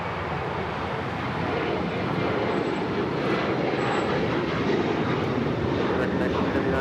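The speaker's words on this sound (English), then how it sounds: "This is American Airlines 1979 taking off to Chicago on the 737-800." An American Airlines Boeing 737-800 takes off at Los Angeles airport, a steady, loud broadband jet roar holding evenly throughout with no clear rise or fade.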